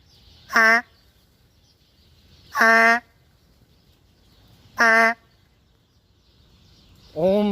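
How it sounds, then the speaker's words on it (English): A flock of birds outdoors, heard as four loud, harmonically rich honking calls spaced about two seconds apart, each short and close, over a quiet background. "Oh my god, there's so many birds. There's like so many. You can only hear them though."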